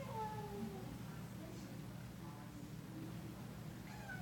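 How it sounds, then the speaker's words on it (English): A long-haired cat meows several times outdoors in cold weather, the calls faint and drawn out against a steady low hum, with a person speaking softly nearby. "Yeah, she's meowing."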